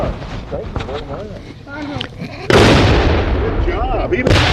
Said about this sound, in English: cannons listen to them